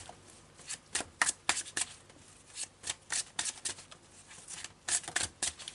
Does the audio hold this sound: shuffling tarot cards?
yes